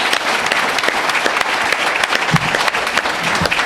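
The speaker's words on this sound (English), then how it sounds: "may we have a big round of applause for these candidates" Loud, sustained applause from an audience for the candidates at a community revitalization committee Q&A forum, a steady wash of clapping hands throughout.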